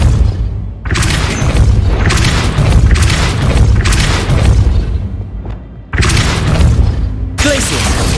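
Repeated heavy booms from the Depulso spell in Hogwarts Legacy, loud bursts of blast-like noise separated by brief gaps, with a voice shouting over the impacts.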